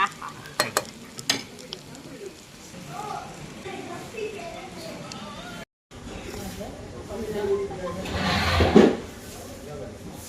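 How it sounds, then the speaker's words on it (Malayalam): Fried quail tossed with shallot masala on a hot tawa, with scraping and stirring under steady sizzle that swells loudest near the end, after a brief silent gap; a voice talks over it. "അപ്പം അതിലേക്ക് നമുക്ക് വറുത്ത് വെച്ച കാട അങ്ങോട്ട് ഇടാൻ പോകും."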